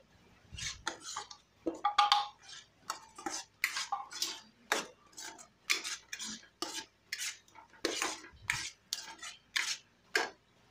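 A spoon scrapes and clinks against a pan while kaju curry spices, turmeric, masala powder and chili, are stirred in, a steady series of close, distinct scraping strokes about once per second, with no talking.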